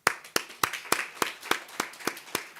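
Congregation clapping in unison at a church service, about nine sharp, evenly spaced claps in quick rhythm, moderately loud with no voices over them.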